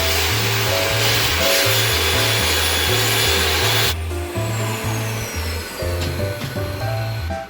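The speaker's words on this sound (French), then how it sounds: "Arrive ensuite mon père avec la scie sauteuse qui aligne chaque planche pour les faire par tranche" A jigsaw buzzes loudly through wooden planks in repeated pulsing strokes, close and harsh, pausing briefly before cutting again.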